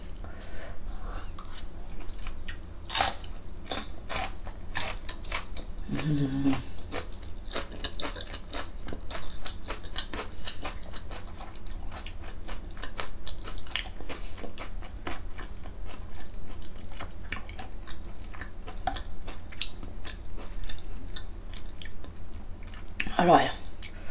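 Raw beef being eaten, with soft wet chewing and biting sounds repeating close up throughout, a few sharper clicks mixed in over a low steady hum, with no clear talk.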